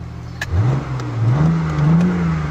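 A BMW i8 sportscar powering up, a rising whirring engine tone that climbs and wavers through a brief rev, close and fairly loud over a faint background hiss.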